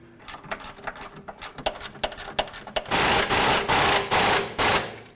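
A ratchet wrench runs the sway bar bushing bolts into a 1988–2002 GMC Sierra 1500, starting with quick light clicking, then louder, harsher bursts of ratcheting in five or six strokes, close by and with no voices.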